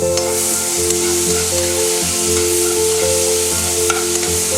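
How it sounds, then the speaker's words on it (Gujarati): Peas frying in a mix of butter and oil for a vegetable sizzler, a loud continuous sizzle with steady crackle and a faint tonal hum beneath, no talking. "બટર અને તેલ એકદમ બરાબર મિક્સ થઈ જાય એટલે એમાં આપણે વટાણા એડ કરીશું."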